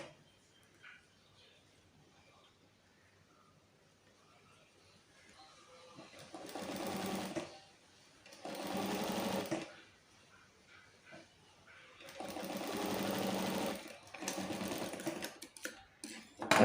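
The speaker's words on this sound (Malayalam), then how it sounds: "ഒരു സൈഡ് തയ്ച്ചിട്ട് പിന്നെ നമുക്ക് അപ്പുറത്തെ സൈഡും കൂടി പതിച്ചടിക്കാം." A sewing machine stitches the sides of a size 34 bra in three bursts of rapid whirring, each a couple of seconds long, separated by quiet pauses, close and fairly loud.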